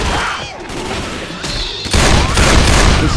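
Rapid gunfire from Left 4 Dead 2, a dense loud fusillade of shots that continues throughout and grows heavier and more intense partway through, with faint voices mixed in.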